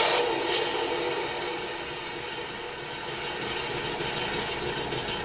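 An airsoft tank's electronic sound unit plays an engine rev effect, a steady broadband rumbling roar that holds close and fairly loud throughout with slight swells, and no talking.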